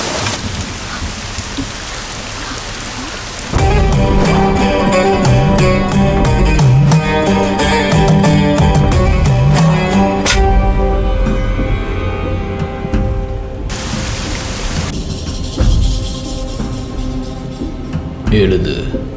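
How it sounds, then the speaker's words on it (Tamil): Heavy rain pours down in a steady, loud hiss throughout, overlaid by dramatic music, with no clear thunderclap standing out. "ஐயோ, மழை ரொம்ப அதிகமா இருக்குடி."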